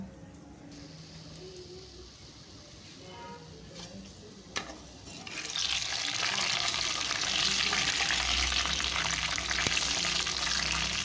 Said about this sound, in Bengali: খুনতে দিয়ে ভালো করে এপিট ওপিট করে একটু নাড়াচাড়া করে নিয়ে আমি ভেজে নেব